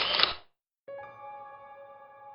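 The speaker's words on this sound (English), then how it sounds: "Everyone knows that sound a camera makes when the shutter snaps a picture." A camera shutter snaps once in a quiet house: a short bright mechanical click, then silence, followed by a faint lingering tonal hum.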